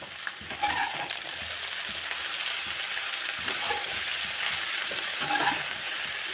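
Vegetables fry on a high flame for a Maggi spring roll filling, a constant close crackling sizzle with occasional stirring scrapes and clinks, with no talking.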